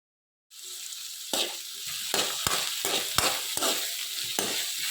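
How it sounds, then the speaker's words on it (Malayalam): Tomato, onion, green chili, ginger and garlic sauté in a pan in a home village kitchen: a sizzle starts suddenly, then a utensil stirs in steady rhythmic strokes over the continuous frying. "തക്കാളി ഉള്ളി പച്ചമുളക് ഇഞ്ചി വെളുത്തുള്ളിയൊക്കെ ഒന്ന് വഴറ്റാൻ വെച്ചിട്ടുണ്ട്"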